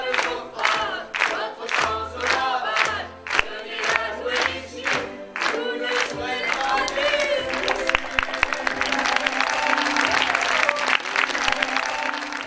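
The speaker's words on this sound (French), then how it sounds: "Après 1h30 de fou rire, les comédiens sont acclamés par un public conquis" A theatre audience applauds the actors after a comedy play, the opening rhythmic clapping giving way to sustained loud applause and cheering from the crowd.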